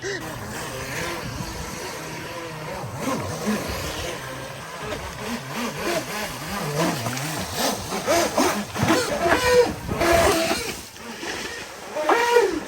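A small 3D-printed RC basher boat motor whines over splashing water, pitch rising and falling as it speeds up, with excited voices talking over it.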